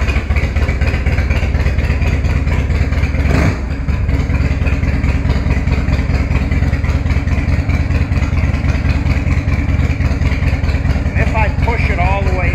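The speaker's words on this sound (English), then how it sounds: "push it all the way in, it'll idle really slow" A small engine settles into a slow, steady idle after its slide control is pushed all the way in, running loud and continuous with a low pulsing throb and a brief dip partway through.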